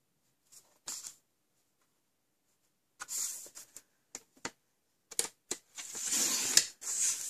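A paper trimmer cuts card down to 11 inches, with short scattered scraping strokes and then a longer, louder slicing pass near the end, close and clear with no talking.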